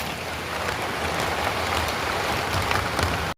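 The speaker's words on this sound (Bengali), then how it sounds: "বৃষ্টির আওয়াজটা শোনো শুধু বৃষ্টির আওয়াজটা শোনো" Heavy morning rain pours down steadily in a village, a dense, even hiss of drops on surfaces that stays close and fairly loud throughout, with no voices.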